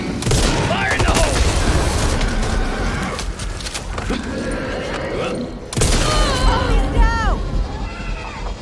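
Loud explosive blasts and dense gunfire in the zombie shooter Back 4 Blood crackle and rumble nearly continuously, with a heavy boom near the middle, mixed with shouting voices and creature shrieks.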